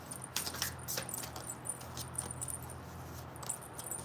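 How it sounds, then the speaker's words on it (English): A deck of tarot cards is shuffled close by, with soft repeated riffling and flicking sounds over a quiet background. "I forgot I was shuffling this."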